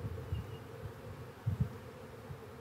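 Honey bees shaken into a queen-rearing cell builder hum as a low, faint, continuous buzz with a couple of slightly louder swells, and no voices.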